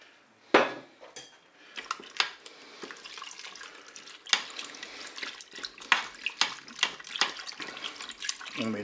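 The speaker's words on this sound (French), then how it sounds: "Je vais ajouter dans la cuve le lait, les 500 ml de lait." Half a litre of milk poured into the inner pot of a Cookeo multicooker, a soft liquid stream broken by sharp clinks and clatters of utensils against the metal bowl, close and with no voices.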